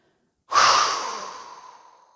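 A single long breath pushed out through the mouth, close and clear, starting abruptly and fading gradually over more than a second in otherwise silent surroundings.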